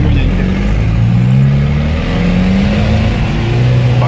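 A UAZ off-road vehicle pushes through deep flood puddles on a Kyiv street, its engine droning loudly and steadily with water swishing beneath, while someone talks over it.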